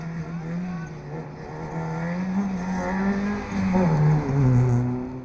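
A rally car on a forest stage of the 2019 Irish Forest Rally Championship, Moonraker Forest Rally, engine note rising and falling through gear changes as it accelerates nearby, fairly loud and steady without voices.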